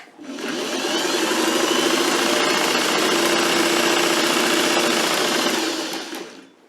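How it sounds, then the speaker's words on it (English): A sewing machine runs steadily for several seconds, stitching up the side of a shirt in one continuous, close, even whir that starts and stops cleanly with no talking. "I'm going to just start sewing right up there"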